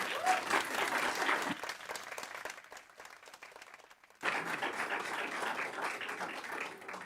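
Applause breaks out during a parish assembly session in Arroios, Lisbon: dense clapping from the room, dipping briefly, then resuming at full strength.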